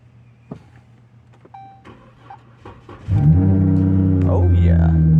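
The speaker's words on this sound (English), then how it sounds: "Let's see if the old girl wants to start today." A Dodge Charger V6 fitted with an aftermarket exhaust cold starts after a few faint clicks and cabin sounds: the starter catches and the engine bursts into a loud, deep idle that stays steady and close.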